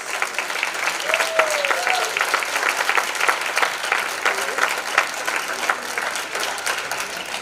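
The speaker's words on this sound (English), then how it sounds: "Give her a rousing round of applause." An audience at a gathering applauds steadily, with dense, close clapping filling the whole stretch and a few voices faintly underneath.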